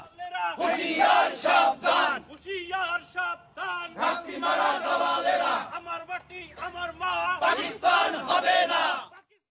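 A crowd of officials from the secondary and higher secondary education directorate chants slogans loudly in rhythmic bursts, many voices shouting together in repeated phrases with short pauses between them.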